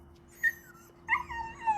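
Bella the dog, jealous of nearby chickens, whimpers in two high, thin bursts, a brief one and then a longer wavering whine, close by and alone against quiet outdoor background.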